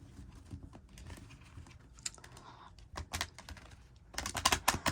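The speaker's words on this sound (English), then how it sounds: "I'm going to start out to shuffle the deck out." A deck of cards being shuffled up close, with quiet rapid riffling and tapping clicks that build into louder bursts toward the end, with no talk.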